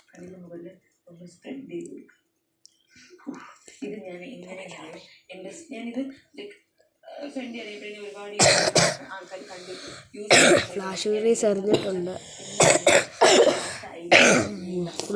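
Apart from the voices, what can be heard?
person coughing and clearing throat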